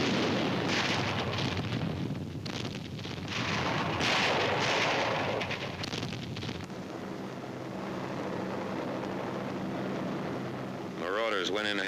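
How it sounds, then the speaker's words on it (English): Archival WWII naval bombardment off the Normandy coast: deep rumbling artillery blasts and a steady roar, fairly distant, with someone narrating over them. "The naval bombardment continues."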